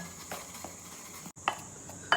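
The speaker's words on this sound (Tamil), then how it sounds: "இப்போ இதை நல்லா மாவோடு ஒன்றா கலந்துக்கலாம்" Soft scraping and stirring of rice-flour dough with coconut oil in a bowl for kozhukattai, with a few sharper clicks of a spoon against the side, fairly quiet and close.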